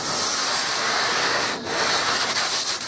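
Steady, close sanding on the wooden hull of a Hullabaloo canoe under upgrade, a continuous abrasive rasp with one brief pause partway through.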